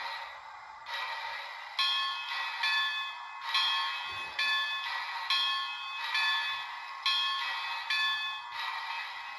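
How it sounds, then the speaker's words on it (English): An HO-scale Bachmann Spectrum 4-6-0 steam locomotive's DCC sound decoder bell rings steadily in a repeating metallic ding pattern, close and clear, with no voices. "function one here, which is the bell."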